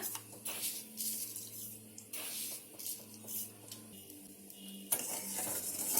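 Milk and sugar stirred in a pan with a spoon for custard fruit salad: soft clinks and scraping against the metal pan, with a steady hum and occasional sharper knocks.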